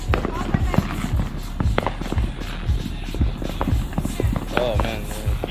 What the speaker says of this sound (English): Neighborhood see all the fireworks.